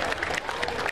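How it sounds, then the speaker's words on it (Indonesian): Crowd clapping at an Imlek and Cap Go Meh festival, a brief burst of close, dense applause with faint cheering. "Tepuk tangan dulu ini."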